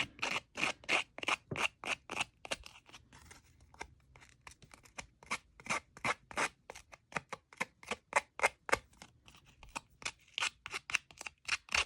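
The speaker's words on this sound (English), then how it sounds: "I'm going to take my scissors and scrape this edge up" Scissors scrape along the edge of a paper card in quick repeated strokes, close and crisp, in rhythmic bursts with a short pause midway before the scraping resumes.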